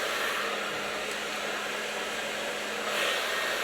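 A hair dryer blows steadily while drying long hair at low volume, its close, constant whoosh holding an even level throughout with no voices.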